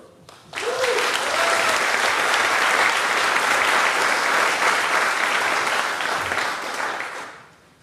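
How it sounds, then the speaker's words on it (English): Conference attendees burst into loud applause for an incoming speaker, a brief cheer rising at the start before steady clapping swells, holds for several seconds, then fades away. "Give a big round of applause for Max McClure."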